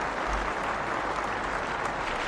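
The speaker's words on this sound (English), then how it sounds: "And a big round of applause for Levin." An audience claps at a live call-in show, a dense, even wash of applause holding at a steady level from start to finish.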